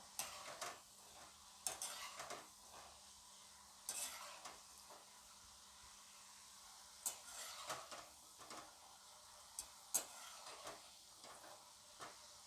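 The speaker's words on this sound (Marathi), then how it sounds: "बाकीचीही आपण शंकरपाळी तळून घेऊया" Sweet shankarpali dough pieces fry in hot oil with a soft, steady sizzle, broken by repeated sharp clinks and scrapes of a metal spoon stirring in the pan, close and fairly quiet.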